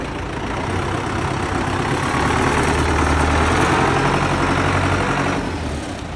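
An MTZ-892.1 tractor engine runs steadily and fairly quietly at idle, a continuous low diesel rumble holding the same level throughout, with no talk over it.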